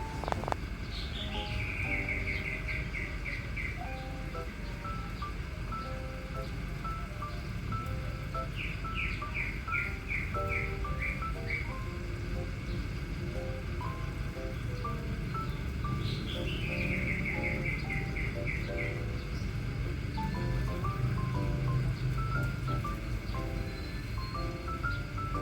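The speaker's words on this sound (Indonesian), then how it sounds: "rame-rame suara burung di atas sini" Many birds chirp and trill together from the branches of a mango tree, with repeated short descending call phrases over a dense, steady bed of chatter and insect-like buzzing, continuous and fairly close.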